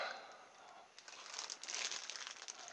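A plastic bag full of rubber bands crinkles and rustles close by, with a soft, steady crackle that grows busier and louder toward the end.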